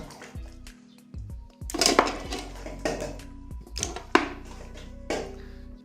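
Chunks of camel meat tumble into a cooking pot in a Saudi village kitchen, giving several wet thuds and clanks of metal against metal in bursts, fairly close and loud, with no talking.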